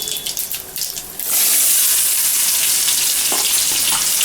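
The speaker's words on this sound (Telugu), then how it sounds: "వేసిన తర్వాత మామిడికాయ ముక్కల్ని వేయాలి" Mango pieces drop into hot oil tempered with seasoning spices, raising a loud, steady, hissing sizzle that swells after a quieter start and continues without pause.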